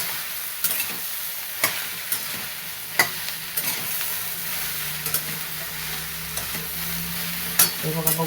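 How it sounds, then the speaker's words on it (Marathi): Okra (bhindi) sautéing in a pan over a low flame, with a steady bright sizzle and a spatula scraping and tapping at irregular intervals, no talking. "आता ह्याला परतून घ्यायचं असतं मग आचीवर परतायचं गॅस फास्ट नाही करायचं त्याला"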